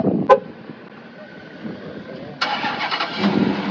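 A Dodge car's 5.7 litre Hemi V8 starts with a push button: a sharp starter click, a short grinding crank, then the engine catches into a loud, rumbling idle close by.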